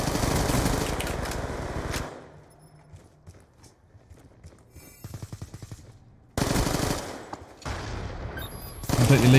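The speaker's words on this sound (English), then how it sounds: "Wow, the SMGs are strong. You actually hit your shots, they just insta-kill." Bursts of rapid submachine gun fire in the video game Black Ops 2, loud and close, with a quieter stretch in the middle before the shooting resumes in dense fast volleys.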